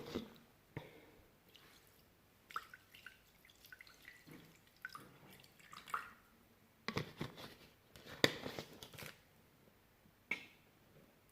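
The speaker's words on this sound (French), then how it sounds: "Et on va verser 100 g de lait." Milk is poured into a Thermomix bowl, making soft, intermittent trickling and splashing bursts that stay fairly quiet and close, with no talking.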